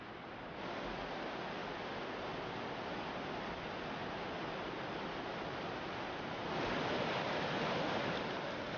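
A flooded mountain river in the high mountains of China rushes in a steady, dense roar that swells slightly louder toward the end, with no voices.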